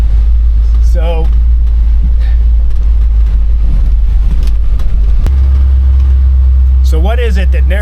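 An FSJ Jeep Cherokee climbs a hill, its engine a heavy, steady low rumble that fills the cabin, with a shift in tone partway through and brief bits of talk over it.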